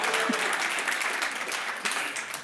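Audience applause at a startup demo day, a steady burst of clapping filling the whole moment, fairly loud and close, with no talk over it.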